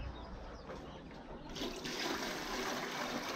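Water poured into a quail drinker, a steady splashing trickle that grows louder and brighter partway through, close by with no talk.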